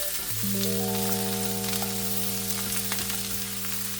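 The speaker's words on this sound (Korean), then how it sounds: "어느 정도 볶아졌을 때쯤 양파, 파프리카도 넣고 볶고" Sausage stir-frying with onion and paprika in a hot pan, a continuous loud sizzle with a few light clinks, no talk.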